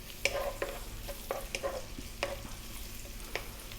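A cup of onion frying in olive oil over high heat, a steady soft sizzle broken by several sharp spoon knocks and scrapes against the pan, fairly quiet and free of speech.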